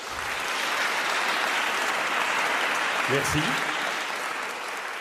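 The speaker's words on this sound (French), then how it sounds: "Applaudissez." A large seated audience applauds in sustained, dense clapping that holds steady throughout, with a brief spoken thanks over it.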